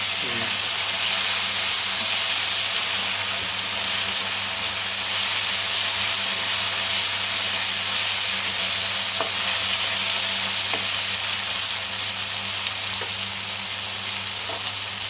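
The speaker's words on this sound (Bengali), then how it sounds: "এটা একটু ভালোভাবে ভেজে নিতে হবে, আদা রসুনের গন্ধটা চলে যায়।" Ginger garlic paste sizzles steadily in hot oil for chickpea and potato ghugni, a continuous close frying hiss with occasional faint stirring clicks.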